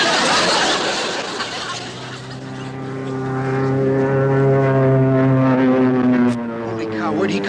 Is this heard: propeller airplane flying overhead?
yes